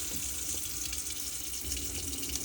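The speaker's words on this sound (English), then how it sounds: "make sure there's good pressure coming through there, and then turn it over to the hot" A Carthago C-Tourer motorhome's sink tap runs with pump-fed water, giving a steady, close, unbroken hiss of flowing water with no talk.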